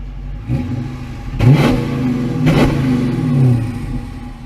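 A 2015 Dodge Challenger Shaker V8 idles with a rumbling burble, then gets two sharp throttle blips in quick succession, each swelling loud and close before dropping back to a lumpy idle.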